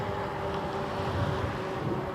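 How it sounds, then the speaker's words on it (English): Steady, rumbling wind buffets the microphone of a moving e-bike rider without pause, a low roaring rush with no voices. "the wind is really just the wind that's blowing up against me as I'm moving forward"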